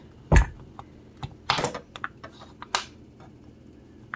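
A cutter snips through a rose stem for propagation, giving a few short, sharp close clicks and snaps spread unevenly over several seconds against a quiet background.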